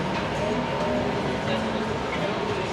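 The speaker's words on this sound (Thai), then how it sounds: "วิ่งมาแล้ว อุ้ยรถไฟก็มา" A train rumbles past with a steady, dense roar of wheels and carriage noise, while people talk over it.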